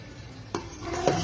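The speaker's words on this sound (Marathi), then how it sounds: "तर हे तांदूळ डाळीसुद्धा मी इथे टाकून घेत आहे" Rinsed rice and lentils are tipped into hot water in a pressure cooker, giving two brief wet clatters and splashes against the metal, the second louder, with no voices.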